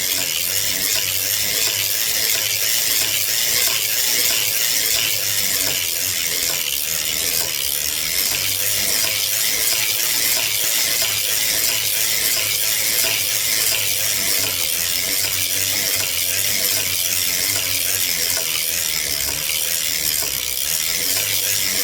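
A sock knitting machine is cranked continuously, giving a steady, even mechanical clatter and ticking with a constant rhythm and no talking.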